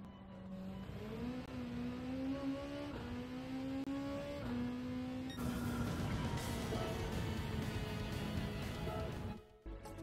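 A race car in Gran Turismo 7 drops a gear, its engine note climbing in stepped revs before a sharp downshift bark, then roaring loud and continuous until a brief cut near the end.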